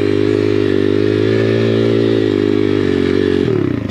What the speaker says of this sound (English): Now, when you get more comfortable with doing your donuts, you can keep them going for more than just one rotation.